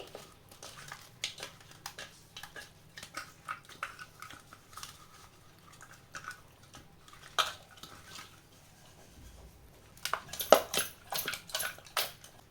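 Fish pieces being hand-mixed with salt, turmeric and chilli powder in a bowl for a pond-fish curry, a quiet stretch of soft squelching and crinkly rubbing followed by a few louder clinks and scrapes near the end.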